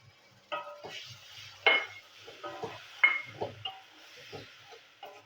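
Tomato paste goes into spices and turmeric frying in a pan for a bottle gourd kofta curry, with a spoon clinking and scraping at irregular moments over a faint, quiet sizzle.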